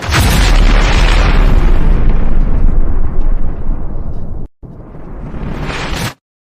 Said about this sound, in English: I layered the explosion sound effect with the video